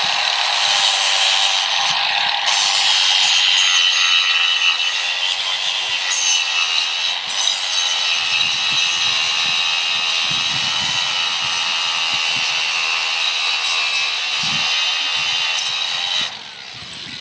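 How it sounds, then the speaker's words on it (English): A powered grinder works steadily during a hoof trim, held upside down and backwards, producing a loud continuous whirring buzz with shifting tone that drops off abruptly near the end. "I need to grind upside down backwards"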